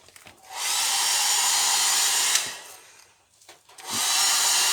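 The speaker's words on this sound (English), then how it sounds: "So we just need to dry those off." A hairdryer blows to dry glue on LD33 foam, switching on into a steady high whir, pausing briefly, then starting again, loud and close.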